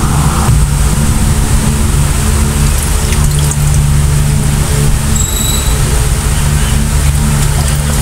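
Water is poured out of a gallon jug, giving a continuous loud splashing rush with a steady low background drone throughout.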